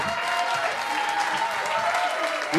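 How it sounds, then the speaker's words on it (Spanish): Steady applause from the crowd at a Christian voice festival in Coquimbo, many hands clapping in a dense, even wash for a couple of seconds with a faint voice underneath near the end. "Fuerte, fuerte, fuerte el aplauso"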